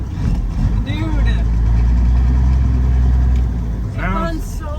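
Engine of a 1984 Peterbilt 359 truck idling and running in a steady low rumble throughout, with people talking over it close by.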